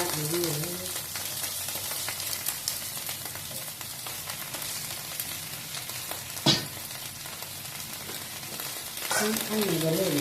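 A pot of Thai mixed-vegetable soup with cabbage and garlic comes to a boil, giving a steady, dense bubbling hiss throughout with one sharp clink partway through.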